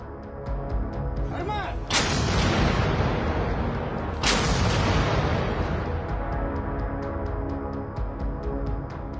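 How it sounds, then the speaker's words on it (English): Ukrainian artillery firing at anti-aircraft missile complexes: two heavy booming blasts a couple of seconds apart, each followed by a long rolling rumble over constant loud background noise. "Video footage shows an artillery unit of the Ukrainian Armed Forces in the area of responsibility of the Joint Forces Strategic Group Tavria destroying"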